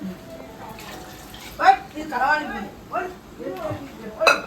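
Water runs from a tap into a pot in a village home as a steady wash of noise beneath a person talking throughout.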